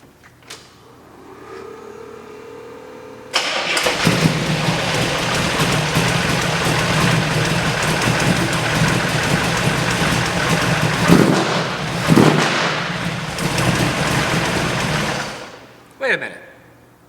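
A rebuilt 1957 GMC 100 truck with a big block engine cranks briefly, then starts and settles into a loud, steady rumbling run, with a couple of revs before it cuts off near the end.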